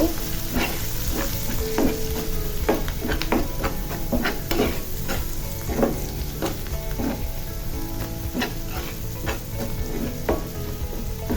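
A salted spice mix with cumin powder sautés in a pan for a mixed vegetable fry, giving a continuous, loud sizzle broken by repeated scraping stir strokes throughout.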